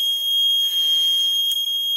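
A firefighter's breathing-apparatus low-air alarm gives a steady, shrill, piercing tone that sounds close and loud and runs unbroken throughout, with no talking.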